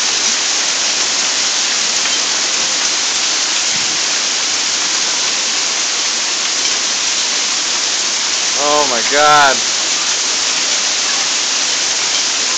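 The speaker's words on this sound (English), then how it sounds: "It is May 16th and it's hailing." Hail and rain pour down steadily in Florida in May, a dense, even rush of falling ice and water throughout, with a brief exclamation from a person near the end.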